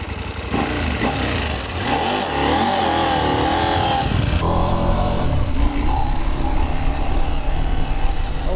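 A KTM 790 Adventure R motorcycle rides forest trails with a loud, close engine drone that climbs and falls in pitch as the rider revs and shifts, rough and continuous throughout.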